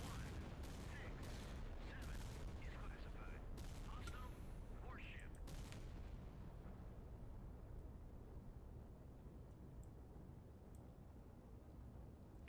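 A naval gunfire barrage from the Admiral Makarov during a Black Sea battle in the Sea Power game: repeated sharp blasts crowd the first half, then fade into a continuous low rumble.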